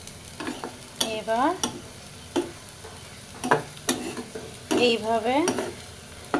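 Chopped onion fries in a pan on a home kitchen stove, with repeated bursts of stirring and scraping over a low sizzle and a few short spoken words.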